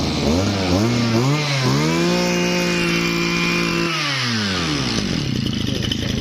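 A small Mitsubishi TL26 two-stroke brush cutter engine runs close up, its buzzing pitch dipping, then revving higher and holding before easing back down.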